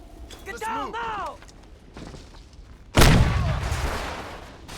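Close, loud shotgun blast from enemies in the PC shooter Crysis at about three seconds, a sharp boom trailing into noisy rumble, after a stretch of someone talking.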